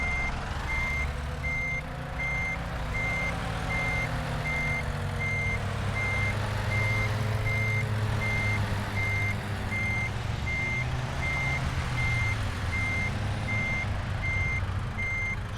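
Steady, evenly spaced reversing beeps from a truck being parked in a video game sound for the whole stretch, with a low engine rumble underneath and no talking.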